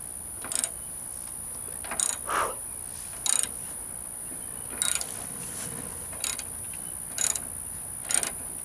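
Ratchet strap mechanism being tightened on a shipping container fitting, giving sharp separate clicks about once a second over a steady high whine, with no talk.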